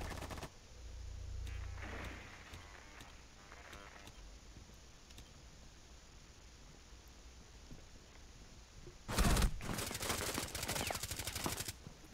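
Gunfire erupts in a Rainbow Six Siege team deathmatch on the House map, a loud burst of rapid shots near the end that follows a long quiet stretch with faint creaks.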